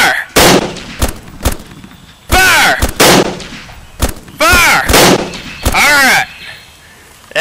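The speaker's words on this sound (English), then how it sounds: "Aim! Fire!" A volley of rifle gunfire rings out in a war scene, with several loud, close shots spaced across the stretch, some echoing, and someone shouting between them.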